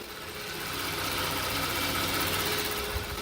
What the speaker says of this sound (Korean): 바로 가까이서 엔진 사운드 담아드리도록 하겠습니다